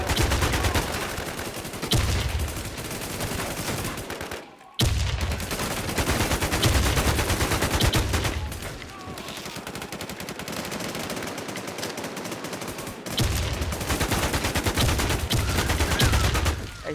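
Gunfire in the online shooter game Warz, loud and continuous automatic bursts with a few short pauses, one near-silent gap, then heavy firing again across the whole stretch.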